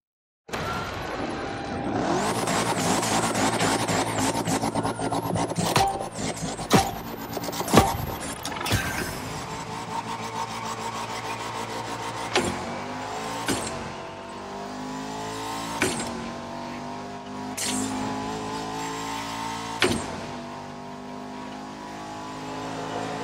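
Bugatti Veyron Barchetta hypercar driving, with a loud sustained engine drone that rises and shifts through revs, sharp transient bursts and squeal-like accents over about twenty seconds, no talking.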